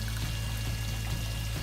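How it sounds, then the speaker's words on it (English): Cupfuls of water poured into a bucket during a fish transfer make a continuous, steady splashing pour, close and moderately loud, with no talking. "So I just take about 2 or 3 cupfuls of water, pour them into this bucket"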